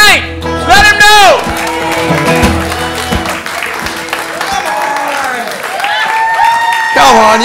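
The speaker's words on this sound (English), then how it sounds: "How about a big round of applause for Frank the Tank?" An audience applauds a comedian at a comedy show, steady clapping and some cheering running through the whole stretch, fairly loud and mixed with voices and music-like tones over it.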